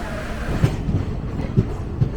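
Kamban Express train running on the line from Chennai: a steady low rumble with a few soft clickety-clack wheel beats from inside the carriage.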